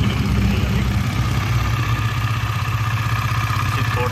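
A KTM Duke 250 motorcycle engine idles steadily nearby, a continuous low rumble holding an even beat throughout.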